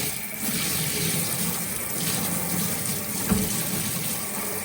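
Water rinsing degreaser off a greasy surface, a steady rushing spray that runs throughout, with one brief knock near the end.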